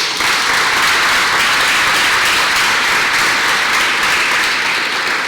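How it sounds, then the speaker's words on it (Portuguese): Congregation at a Sunday celebration service giving loud, sustained applause, a thick, even roar of many clapping hands, close and unbroken for five seconds. "Dá um aplauso ao Senhor aí."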